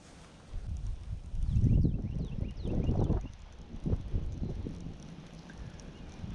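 Gusty wind buffets the microphone outdoors while fishing for rainbow trout on a chilly day, with low rumbling bursts that swell and fade irregularly.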